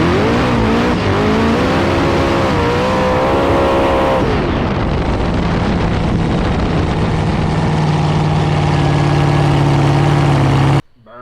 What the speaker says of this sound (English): should I play the burnout again?